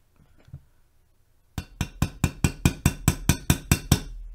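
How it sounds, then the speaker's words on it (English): About a dozen sharp, evenly spaced hammer taps drive a part into a 450 Bushmaster rifle during a Palmetto State Armory build, loud and close, after a short quiet stretch with a couple of faint handling knocks. "And then you're going to take your hammer and get this bad boy started."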